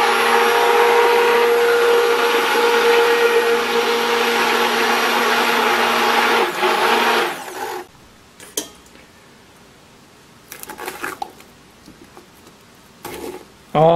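Stick blender whirring steadily as it mixes a batch of homemade liquid laundry detergent, loud and continuous for about eight seconds, then cutting off, followed by faint scattered clatter and a couple of brief bumps.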